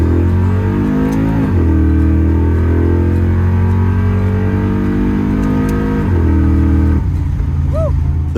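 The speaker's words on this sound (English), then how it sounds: "and then it's time to go for a test drive." A car engine revs up and holds a loud, close drone, dipping briefly around the middle before rising again.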